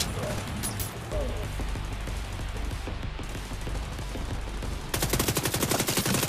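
Rapid video-game gunfire from The Division 2 rattles in sustained bursts, loud and close, with a harsher, denser volley of automatic shots near the end.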